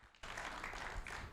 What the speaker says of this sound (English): Come on, another round of applause.